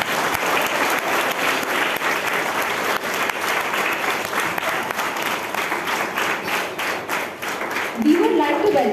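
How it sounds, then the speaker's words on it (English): An audience at an International Moon Day celebration bursts into steady, dense applause that runs the whole stretch and swells slightly near the end as a voice starts to speak. "Can we have a big round of applause"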